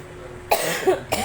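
A single sharp cough bursts out close by after a quiet moment, followed by a second short cough.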